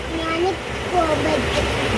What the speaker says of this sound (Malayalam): ഗൈസ്, ഞങ്ങൾ ട്രെയിനിലെത്തി